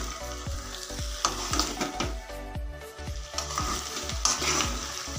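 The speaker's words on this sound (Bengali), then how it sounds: "এখন মশলার মধ্যে ভালো করে মাটনগুলোকে মিক্স করে নিচ্ছি এবং লো টু মিডিয়াম আঁচে কিন্তু ভালো করে কষিয়ে নেব" Mutton pieces sizzle in oil and spices over a low to medium flame, with repeated scraping strokes of a spatula stirring the pan in a steady rhythm, close and moderately loud.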